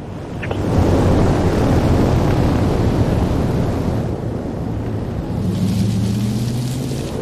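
Steady roaring storm wind and rain build in Forza Horizon 4 on Fortune Island, a dense continuous rush with low rumbling, with no talking.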